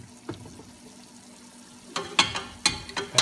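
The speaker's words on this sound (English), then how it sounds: "Now let's put our lemongrass in." Lemongrass dropped into a simmering pan of fish-sauce broth for bulcachong, a quiet bubbling simmer broken by several sharp clattering stir and splash hits near the end.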